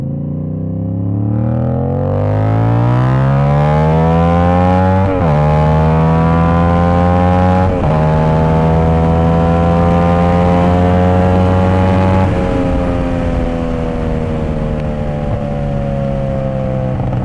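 A 2026 CFMOTO 450SS motorcycle engine revved up from idle and held high with a few blips, a loud, close, deep droning tone that swells and wavers for a long stretch with no voices.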